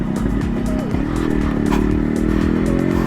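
A motorcycle rides across a hanging bridge on an off-road trail, its engine droning loudly and close with shifting pitch as it moves along, while faint wind noise runs underneath.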